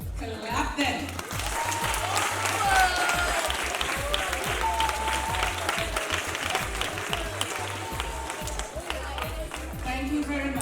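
Audience at a primary school graduation ceremony applauds the teachers with sustained, steady clapping from a large crowd. A few voices are heard beneath it.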